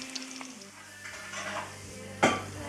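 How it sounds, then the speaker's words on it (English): Ground pork sizzles as it browns in a hot pan and is stirred, with soft scraping, a low hum early on, and one sharp metallic clank of a utensil against the pan near the end. "I'm going to take the ground meat and fry them"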